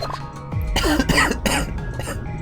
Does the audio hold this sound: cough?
yes